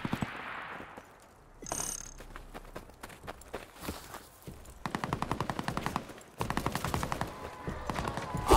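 Rapid bursts of automatic gunfire in the zombies mode of the video game Call of Duty: Vanguard, loud and close, several strings of consecutive shots between footsteps and game effects.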